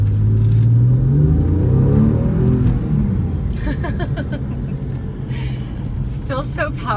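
A 2003 Porsche 911 Carrera roars as it accelerates, with loud engine pitch climbing over the first few seconds, then easing into a lower drone while people talk over it.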